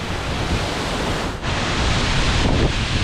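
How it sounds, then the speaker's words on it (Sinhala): Bomuru waterfall, one of the falls in the Bomuru chain, pours as a loud, steady broadband roar with no voices, the rushing water holding constant throughout apart from a brief dip. "මේ තියෙන බෝමුරු ඇල්ලට උඩ ඇල්ල"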